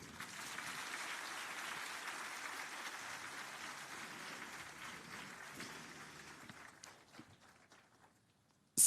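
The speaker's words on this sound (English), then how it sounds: "Please let us applaud Equity Bank." An audience at a scholarship commissioning ceremony applauds in a sustained, fairly distant clatter of many hands that gradually thins and fades out toward the end.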